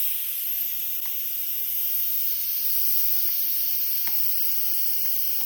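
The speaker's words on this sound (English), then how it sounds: "let's go ahead and release the steam by turning it that way." A steady, high-pitched hiss of steam rushing out of an Instant Pot electric pressure cooker during release after cooking chicken breast, continuous and fairly loud with faint clicks underneath.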